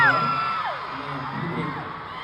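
A concert crowd cheers and screams loudly and continuously, with whoops and shouts rising over a dense roar at a Bulacan show in the Philippines.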